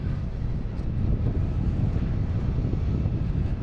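JetBlue airliner arriving from Key West at Boston Logan International Airport, a loud, steady low jet roar heavy in the bass, mixed with wind buffeting the microphone.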